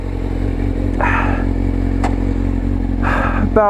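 A 600 motorcycle riding off on a gravelly road, a steady close engine drone with rising revs and clattering, scraping bursts over it.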